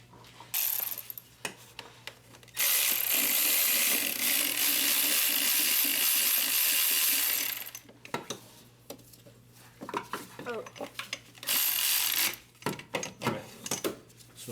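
Bolt being tightened on a Hyundai Sonata power steering pump: repeated metallic ratchet clicks in long bursts with short clanks between them, close and fairly loud.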